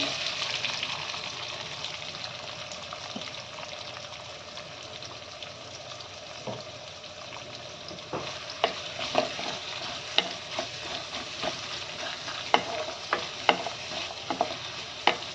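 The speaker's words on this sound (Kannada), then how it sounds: "ಈರುಳ್ಳಿ ಫ್ರೈ ಆಗಲಿ ಸ್ವಲ್ಪ." Onions frying in tempering oil with mustard seeds for a radish leaves stir-fry, a steady hissing sizzle that grows busier with crackling pops and stirring clicks toward the end.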